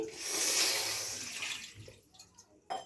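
Cold water pours steadily from a tap in a broad close rush that fades after a couple of seconds, followed by a few scattered splashes and knocks.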